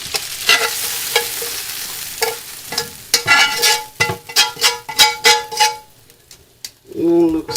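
Meatballs drop into a pot of caramelized sauce for spaghetti, followed by a run of loud, rhythmic spoon knocks and scrapes against the pot, close and clattering, ending with a brief burst of noise.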